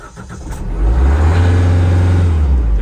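A Kubota LX20 tractor engine starts and settles into a steady, loud, close diesel drone with a rising low rumble, running alone without talk.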